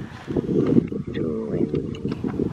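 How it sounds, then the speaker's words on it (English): Wind buffets the microphone with low rumbling gusts while a voice talks close by. "it's too windy, huh?"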